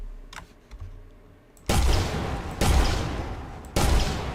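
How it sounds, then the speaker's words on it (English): Repeated explosions of a stationary mine in a game engine test, three loud broadband booms about a second apart, each cutting in sharply and decaying slowly, following faint clicks and quiet background. "we are indeed getting an explosion, but it's happening every time we hit this thing"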